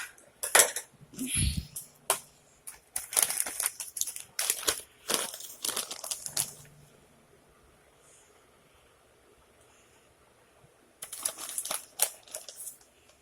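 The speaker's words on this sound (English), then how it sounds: "Let me get the bag open. I'm just going to cut it across the top." A plastic bag of sharp cheddar cheese is handled, torn open and cut across the top with scissors, giving close crinkling bursts and snips in clusters, a quiet pause, then more crinkling at the end.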